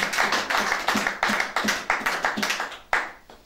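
A church congregation claps in praise, a steady rhythmic beat of many hands, close and fairly loud, with no talking over it.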